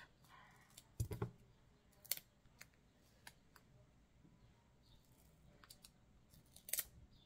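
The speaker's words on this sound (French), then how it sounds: "Ils sont top ces ciseaux" Scissors snip through paper for scrapbooking card crafting, a few sharp separate cuts spaced out across a quiet room, close and crisp.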